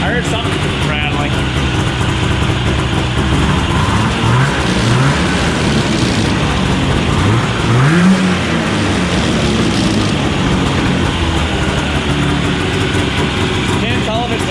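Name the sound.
Yamaha Enticer snowmobile running with a rattling noise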